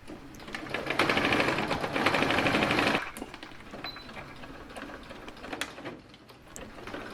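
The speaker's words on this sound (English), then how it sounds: "I am sewing up those straps in long tubes" A sewing machine stitches dress straps into long tubes, running in a loud, steady rapid whir for about three seconds, then dropping to quieter, intermittent stitching with faint clicks.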